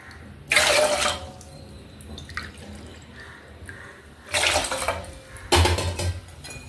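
Water poured into a pot while making sago and moong dal payasam in a home kitchen, heard as three loud splashing bursts with quieter clinks of utensils between them and no talk.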